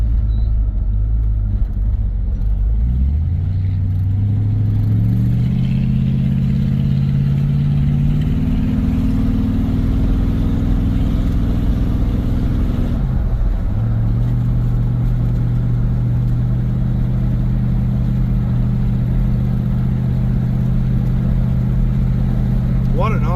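1971 Dodge Polara with 31,000 original miles on the road after 20+ years, its engine rumbling loud and close as it pulls away and climbs in pitch, dips as the gears shift, then settles into a steady cruise drone.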